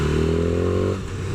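A BMW S1000R large-capacity naked motorcycle engine revving hard and loud with a steady roaring drone that drops off abruptly near the end, no talk over it.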